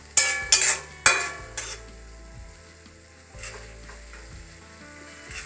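Omelette masala sautéed in a pan over a steady flame: a few sharp spatula clanks at the start, then a continuous low sizzle with light stirring, no voices.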